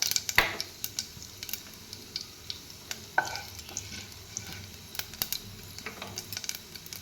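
Cumin and mustard seeds sizzle and pop in hot mustard oil in a pan for an Odia-style dal tadka, a soft, steady fizz broken by sharp crackles and a spoon clinking, close and without talk.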